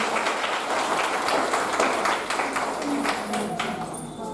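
An audience at an anniversary celebration claps in dense, continuous applause, a steady crackling patter that holds for a few seconds at moderate level, with faint voices underneath.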